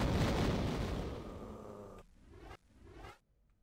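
A video game explosion, a loud broadband roaring blast that fills the first two seconds, then breaks into short crackling bursts and debris before dying away, with no talk.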